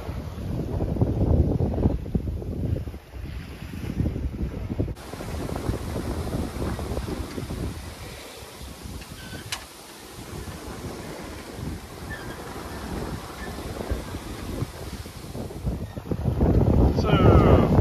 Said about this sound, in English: the wind finally started to fill in and we began to make time towards Hilton Head